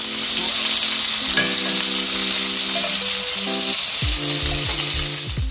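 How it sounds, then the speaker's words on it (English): Lamb chops sear in a pan with a loud, steady, close sizzle that hisses without a break throughout, while low music plays underneath. "look, my lamb chop almost seared"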